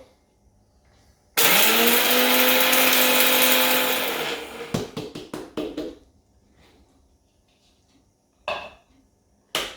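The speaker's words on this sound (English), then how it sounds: "Let's grind them up in the blender." A blender grinding spices for goat curry roars loudly for about three seconds, then cuts out into a series of sharp pulsed bursts, followed by quiet and a brief final whir.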